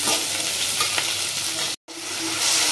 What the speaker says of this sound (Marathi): तर आता मस्त आपण मारून घेतला आहे कांदा आणि शिमला मिरची आणि आपली छोटीवाली मिरची